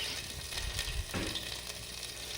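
Butter sizzles and crackles in a pan while samba wheat rava kesari is being cooked, a soft, steady frying hiss with faint stirring, quiet and close, no voices.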